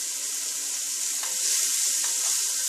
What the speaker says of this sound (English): I have a heated pan with some olive oil. I'm going to add 1 medium chopped onion and 3 cloves of garlic